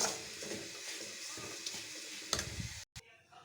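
Semolina being dry-roasted and stirred in a pan for laddu, a quiet continuous scraping and faint sizzle with occasional spoon knocks against the metal, no talking.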